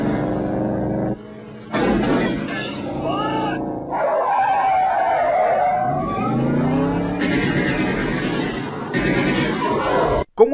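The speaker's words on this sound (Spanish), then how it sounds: "El Batimóvil en esta ocasión fue un Mercury convertible marrón de fábrica de 1949." A brown factory 1949 Mercury convertible driving, its engine running loud and close with changing pitch, a brief drop midway, and sharp crackling bursts near the start and end.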